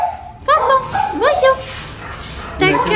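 A young dog at an animal shelter whimpers and yips in a rising, whining series of close cries, with a brief pause before more yelps near the end, all over faint background noise.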